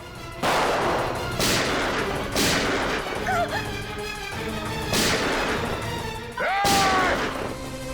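Gunfire rings out in a TV crime drama, several sharp, loud shots spaced about a second or two apart with short ringing tails, while raised voices and background sound continue between them.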